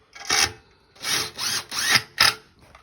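A power driver sinks 4-inch screws into a radiator bracket in several short, loud, close bursts, each whirring for about a quarter to half a second with brief pauses between.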